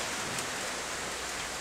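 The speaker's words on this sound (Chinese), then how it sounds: "下雨了，快啊！" Rain falls steadily, a soft continuous hiss of drops at low level with no distinct individual patters and no voices.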